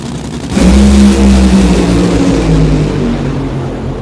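A Funny Car drag racer blasts down the racetrack during NHRA qualifying, its engine erupting into a loud, sustained roar that slowly fades as the car moves away, with no talk.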